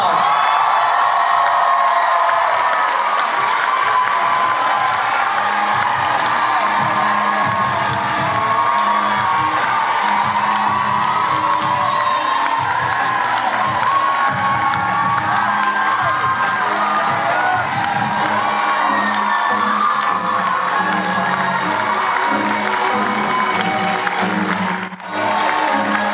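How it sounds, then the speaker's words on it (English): Large audience at a university diversity monologues event breaks into sustained applause mixed with cheers and whoops, steady and loud throughout with a brief dip near the end. "Let's give them a big round of applause."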